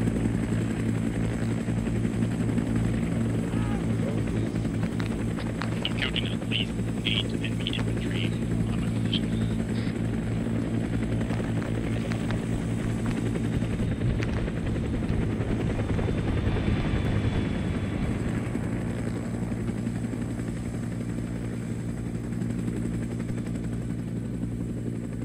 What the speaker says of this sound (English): let's mount up in this helicopter, guys